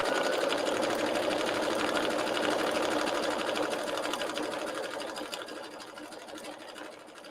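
A sewing machine stitching stretchy sweater fabric with stabilizer, running in a steady, close, continuous whir that eases off slightly toward the end.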